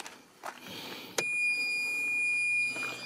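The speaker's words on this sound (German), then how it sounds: "Summer geht auch." A steady high-pitched electronic buzzer tone from an Opel Calibra starts abruptly after a few soft clicks and holds continuously for about two seconds before cutting off.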